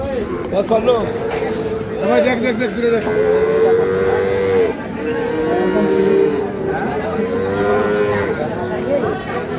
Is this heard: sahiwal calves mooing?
yes